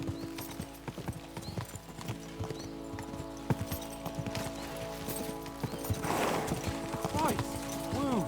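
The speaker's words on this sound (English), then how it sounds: "We should spur the horses on." Horses clip-clop steadily along a road in the Kingdom Come: Deliverance II video game, with rhythmic hoofbeats, a whinny near the end and voices talking over the riding.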